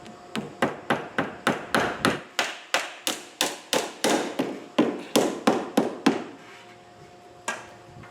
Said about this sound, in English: Then I nail them about every foot in the front.